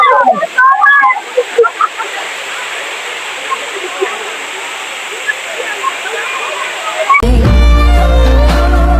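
Durgapadu waterfall in Rayagada district, Odisha: a steady, broad roar of falling water fills the scene, overlaid by voices in the opening seconds and a louder, tonal burst near the end.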